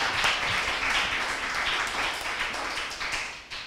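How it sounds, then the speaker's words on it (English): At a school quiz, an audience gives a round of applause for the escorting teachers, a dense, even wash of many hands clapping that holds steady and fairly loud throughout before easing slightly at the end. "let's give them a very big round of applause for that"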